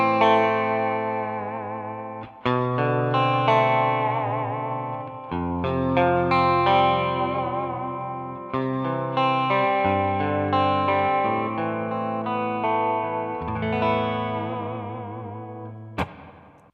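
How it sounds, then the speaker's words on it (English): Electric guitar played through a Two Notes Captor X with secondary reverb added over the amp's reverb, giving an ambient tone: sustained chords and melodic notes ringing with wide wash and chorus-like shimmer, loud and alone for about sixteen seconds. "I can also add a secondary reverb from the Captor X. Now I've got more of an ambient sound."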